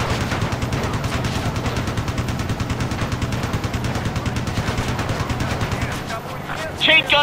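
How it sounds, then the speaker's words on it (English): Chain gun firing in Ace Combat Assault Horizon, a steady rapid mechanical rattle of shots sustained for several seconds under game music and radio chatter, then cutting out near the end. "Chain gun overheated, Captain."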